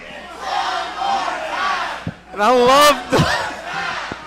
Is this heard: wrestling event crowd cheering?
yes